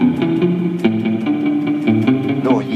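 An electric guitar plays through an Amplitube 5 Fender amp simulation with a surf-style reverb. Loud, sustained chords and notes ring with a wet, washy tail and a slightly gritty edge, and no voice is heard.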